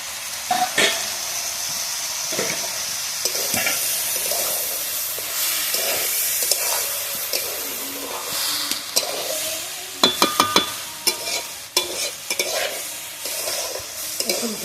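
Rice frying in ghee with cashews and raisins in a pan (kadai), stirred steadily with a loud continuous sizzle and hiss and a cluster of sharp scraping clinks near the end, no voices.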